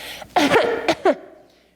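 A short, muffled cough followed by two quick smaller coughs, close and dampened as if into a sleeve, with no talking.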